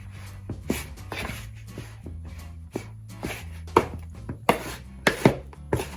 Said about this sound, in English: So you just wanna mix until the ingredients are just combined